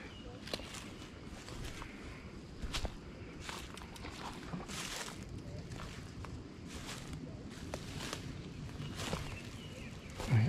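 Footsteps walking down through brush toward a fishing spot on a local lake, a continuous crunch and rustle of steps on leaves and twigs close by, with a bump at the end.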